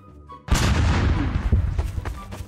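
A Mark 82 bomb detonates in Garry's Mod, a sudden heavy blast after near silence that rolls into a long rumbling echo, crackling and decaying over the following seconds.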